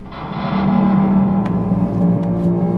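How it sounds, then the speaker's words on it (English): A deep, droning metallic groan, a garbage can lid pitched down an octave, steady and heavy with a couple of faint clicks. "that's really just a garbage can lid pitched down an octave"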